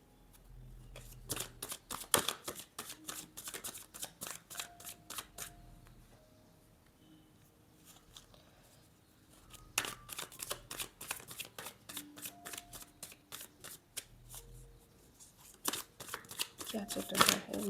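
Tarot cards being shuffled, with rapid riffling runs of crisp card flicks that come in bursts separated by quieter handling, close and clear while a voice speaks at moments.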